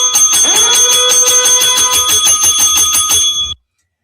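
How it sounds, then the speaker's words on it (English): A loud bell rings rapidly and continuously for a few seconds, like a timer going off, then stops abruptly. "And I can't wait to hear the ding."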